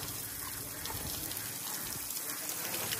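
A shower runs steadily, close and continuous, with a broad hiss of spraying water filling the whole moment.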